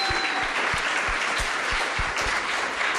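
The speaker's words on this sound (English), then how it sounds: "So a big, warm applause for them for helping us out." Warm audience applause at a Garage48 hackathon event in Tbilisi, a steady, loud, continuous patter of many hands clapping close by, with faint regular low thumps beneath and no speech.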